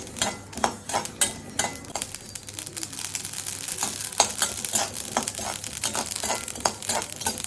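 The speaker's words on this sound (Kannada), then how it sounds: "ನೋಡಿ ನೆಕ್ಸ್ಟ್ ಸಾಸಿವೆ ಹಾಕೋತಾ ಇದ್ದಾರೆ. ಎಲ್ಲ ಚಟ್ಪಟ್ ಅಂತ." Mustard seeds splutter and pop in hot oil while spices are roasted for Vangi Bath powder. Close, steady sizzling comes with sharp crackles and the scrape of a stirring spoon against the pan, and no voices are heard.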